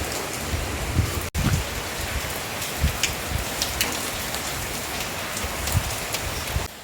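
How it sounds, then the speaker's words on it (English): Steady rain falls continuously on a surface on a wet morning, a dense, even patter with occasional louder drops and no voices. "It's raining continuously."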